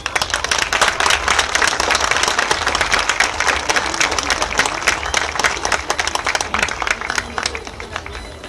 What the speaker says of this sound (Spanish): Un fuerte aplauso a María.